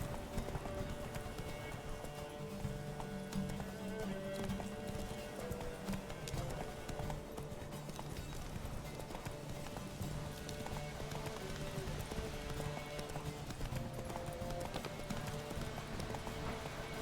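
Hooves of the horse Roach clip-clop at a steady run in The Witcher 3: Wild Hunt, a continuous galloping rhythm over game music that lasts the whole stretch.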